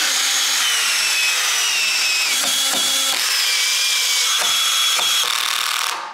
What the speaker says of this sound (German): jetzt wird geschraubt